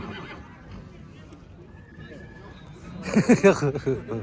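A stallion at the Karakol livestock market neighs in loud, abrupt bursts near the end, mixed with shouting and people talking in a noisy open-air bazaar.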